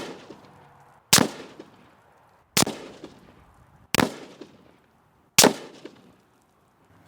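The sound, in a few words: rifle shots fired with M193 ammo at a target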